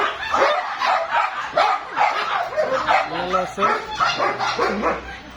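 Several German Shepherd dogs at a dog farm bark repeatedly in close, loud bursts with yips and whimpers mixed in, while people talk over the noise.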